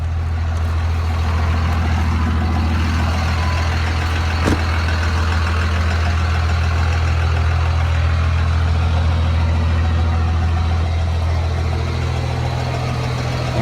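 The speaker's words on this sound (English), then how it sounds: "you can hear where the exhaust is actually broken off, like right around here." A 24-valve Cummins diesel truck idles outdoors with its exhaust rusted and broken off just before the rear axle, giving a steady, loud, low rumble throughout with one brief click partway through.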